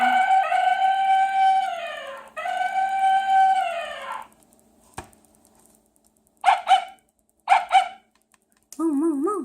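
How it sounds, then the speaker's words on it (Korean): A dog bark played from an electronic animal-mask sound book, heard as two short barks after a tinny melody, with a warbling electronic tone at the end; no speech. "나는 강아지야."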